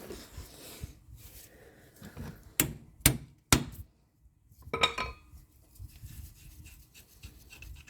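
Sharp metallic hammer blows knocking bolts out of the steering knuckle of a 2005 Toyota Corolla 1.8 during driver's-side front wheel bearing replacement, three loud close strikes in quick succession, then a rattling clank and quieter shop scraping.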